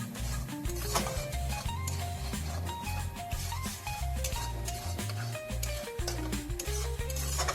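Spice paste for prawn malai curry fries in oil in a pan, a continuous sizzle with clinks and scraping stirs, overlaid by a loud steady mechanical hum.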